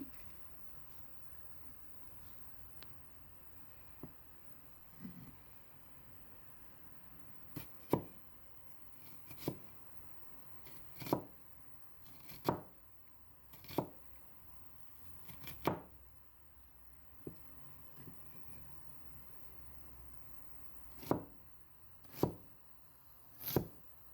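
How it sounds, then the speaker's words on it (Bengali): A knife chops an onion into square pieces on a cutting board, giving about a dozen sharp, separate cuts at an uneven pace over a quiet background. "এই তো আমি এখন পেঁয়াজটা কেটে নিব চার কোনা শেপ দিয়ে পেঁয়াজটা কেটে নিতে হবে"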